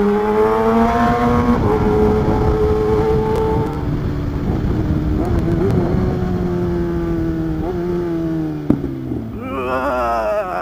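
A Kawasaki ZX10R sport motorcycle engine roars loud and close while being ridden, holding a high steady rev, easing off, then climbing again in a sharp rising whine near the end.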